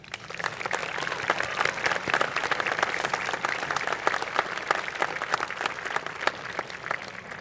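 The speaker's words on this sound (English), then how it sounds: "Let's give them a round of applause." Crowd applause at a high school graduation ceremony, a dense, sustained wash of clapping from a large audience, even and continuous throughout.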